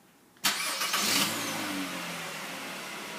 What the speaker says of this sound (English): sends the signal, cranks the engine.